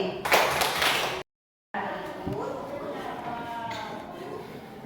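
Several sharp hand claps in a quick burst, followed after a short silence by a single clap among voices talking.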